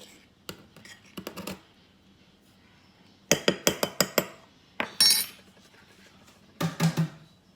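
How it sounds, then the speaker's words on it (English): A spoon knocks and clinks against a bowl while cookie dough ingredients for pecan chocolate chip cookies are stirred, coming in several quick bursts of sharp taps with quiet pauses between them. "And then just stir it up a little."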